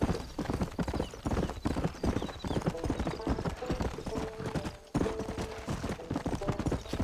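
Horse hooves clip-clop steadily during riding in the video game Red Dead Redemption, a quick, continuous trot close up with a voice talking over parts of it.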